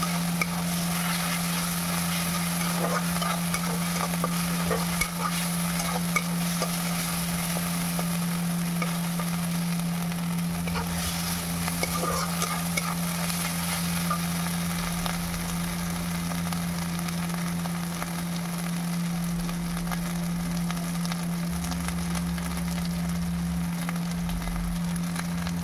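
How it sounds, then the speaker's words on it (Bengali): Garlic paste frying in a pan while being stirred, a steady close sizzle and crackle with a constant low hum underneath, running continuously without talk. "রসুন বাটা দিয়ে আবারও নাড়াচাড়া করে ভেজে নিচ্ছি যাতে রসুনের কাঁচা গন্ধটা চলে যায়"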